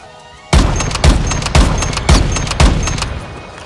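Five loud, close rifle shots from a weapon mod in Fallout 4, fired at an even, deliberate pace, each crack followed by a short ringing decay.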